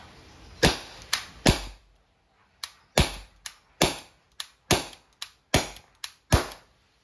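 Umarex T4E .50 caliber CO2 airgun revolver firing a string of about a dozen sharp, loud cracks at irregular spacing, each with a short ringing tail, and no talk over them.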